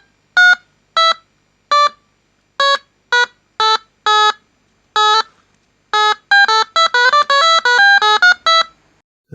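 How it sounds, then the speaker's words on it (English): A homemade 555 timer electronic piano plays a series of short buzzy square-wave notes at varying pitches, first spaced out, then quicker and denser toward the end, loud and close with silence between keys. "make this really interesting musical device with using a 555 timer"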